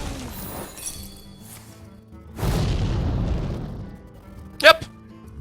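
Hearthstone Explosive Trap set off by a weapon attack, giving a deep rumbling boom with a long decaying tail, followed by a brief sharp glassy crack; a commentator's voice runs faintly underneath.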